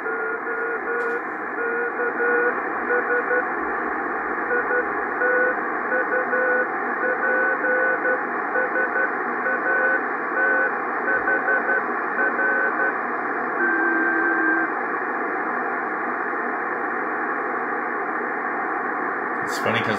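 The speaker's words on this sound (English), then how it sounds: "even if it's just Morse code, it's kind of cool to know that what you're listening to is a satellite." A Morse code CW beacon from the Itupsat 1 amateur satellite, received on an Icom IC-R8500, forms a steady stream of keyed tones over a constant hiss of receiver noise, unbroken and continuous throughout.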